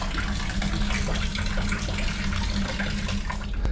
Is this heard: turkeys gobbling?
no